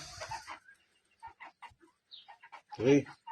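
Forty-day-old chickens on a poultry farm give a few soft scattered clucks and chirps before a louder, close call near the end, with someone talking over the start.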